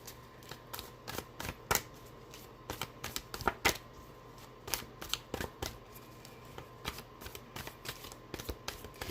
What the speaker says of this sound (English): I want to draw one more card on that.